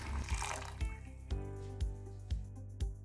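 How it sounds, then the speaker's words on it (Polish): Boiling water is poured into a bowl of lemon jelly powder, a close gurgling splash followed by a series of about five soft, rhythmic glugs and drips at regular intervals. "Wlewamy 250 g wrzącej wody."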